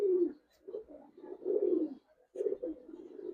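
Giribaz pigeons held in the hand give soft, low, throaty coos in several short bursts with brief pauses, close and fairly quiet.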